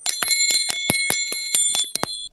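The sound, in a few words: hotel bell being rung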